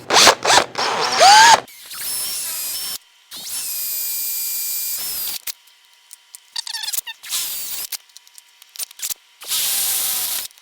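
A power drill whirs in several bursts, drilling a hole for brakes on a Chevy race truck, revving up and stopping between runs, loud and close with short pauses and clicks.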